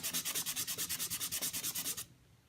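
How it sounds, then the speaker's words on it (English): A wooden fidget spinner button is sanded by hand with 220 grit sandpaper in quick, even back-and-forth strokes, about a dozen close, soft rasps that stop abruptly near the end. "Follow the grain of the button. Again, I'm just using 220 grit."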